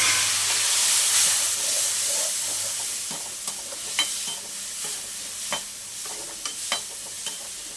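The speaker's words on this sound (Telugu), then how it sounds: "ఇప్పుడు కట్ చేసి పెట్టుకున్న టమాటా ముక్కలు వేసేస్తున్నాం." Tomato pieces fry with golden onions in a pan for a drumstick pulusu, giving a soft, steady sizzle broken by scattered clicks and scrapes of stirring.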